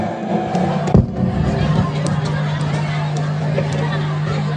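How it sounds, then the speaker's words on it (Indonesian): Large outdoor crowd cheering and clapping at the opening of a Quran recitation festival before a colossal student dance drama, a dense, steady roar with one sharp bang near the start over a constant hum. "Berikan tepuk tangan yang meriah"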